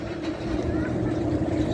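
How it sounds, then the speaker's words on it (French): Cars crossing a bridge overhead in Lisbon make a continuous, heavy low rumble that steadily fills the scene, with a faint murmur mixed in. "Et les bruits des voitures au-dessus."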